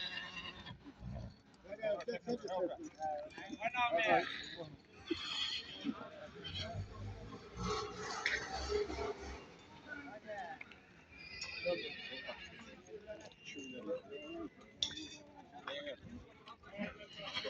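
Horses at an open-air horse market in Barda whinny repeatedly and clop their hooves, with livestock sounds and faint voices in the background at moderate distance.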